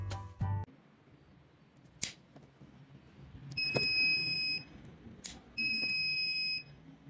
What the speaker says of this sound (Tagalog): When the flame sensor detects a flame or fire, tutunog ang buzzer.